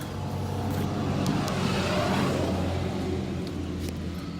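A car drives on a test run after a rubber exhaust hanger replacement, a steady broad road and engine rumble from inside. The sound holds even for a few seconds with a slight rise and fall.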